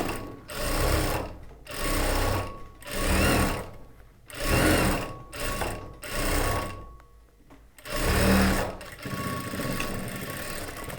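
Sewing machine stitching a churidar top runs in repeated bursts of steady rapid whirring, about eight short runs separated by brief pauses, close and clear with no talking.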